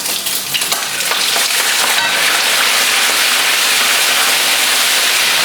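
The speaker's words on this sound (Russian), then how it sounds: "Мясо не крупные кусочки, и хорошо жарится." Small pieces of meat frying in a pan make a loud, dense, continuous sizzle that crackles like heavy rain, close and steady throughout, with no talking.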